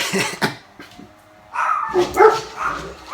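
Dogs bark and yip in short bursts, a few sharp barks followed by whimpering, fairly close.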